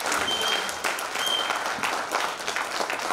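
Audience applause at a school baseball booster club year-end gathering, a brisk continuous patter of many hands clapping fairly close, holding steady for a few seconds without pause.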